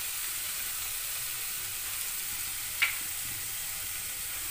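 Cumin seeds and ground cumin paste sizzle in hot oil with a faint, steady hiss and one small pop partway through.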